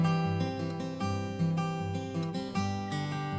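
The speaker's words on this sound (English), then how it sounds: "this called a Travis pattern. It's with alternating bass note" Fingerstyle acoustic guitar in a Travis picking pattern, a steady alternating bass note thumping under melody notes, played alone and close with an even, bouncing rhythm.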